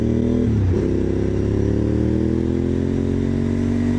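A Honda SP1 motorcycle engine running close and loud, a steady throbbing idle that rises slightly in pitch after a brief blip, with no voices.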